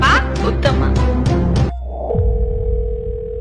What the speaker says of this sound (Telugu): హలో ఫోన్ ఎత్తండి సార్